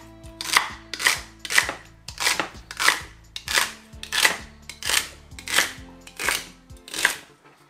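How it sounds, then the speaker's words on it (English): Potato cut into chunky pieces for a mixed vegetable soup, a knife striking the board about ten times in a steady rhythm, close and crisp with no talk over it. "Come on, potato. Just cut them chunky, you know."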